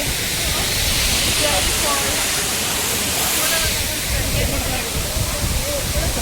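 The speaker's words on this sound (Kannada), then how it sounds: "ಮಳೆ ಬರ್ತಿದೆ ಗೈಸ್" Heavy rain falls beside a waterfall in Chikkamagaluru, a loud continuous rushing roar of water that fills the whole scene, with faint murmuring voices underneath.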